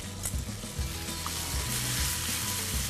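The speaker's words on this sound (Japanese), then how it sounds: "茶そばを炒めていきますまずフライパンに油を入れてください茶そばを入れます" Green tea soba noodles stir-frying in an oiled frying pan, a dense continuous sizzle with low thumping and shuffling as the noodles are tossed, close and alone without speech.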